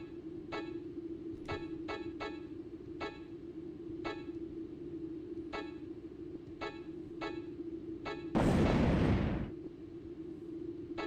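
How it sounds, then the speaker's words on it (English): In the horror video game Deep Fear, one loud roaring explosion bursts out for about a second amid a steady low hum and a string of sharp repeated clicks. "It exploded."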